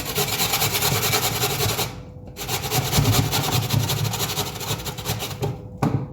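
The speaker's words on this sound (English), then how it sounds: "now it's time to grate the potatoes" Raw, uncooked potatoes are grated by hand in quick back-and-forth strokes, making a dense, close rasping scrape with two short pauses.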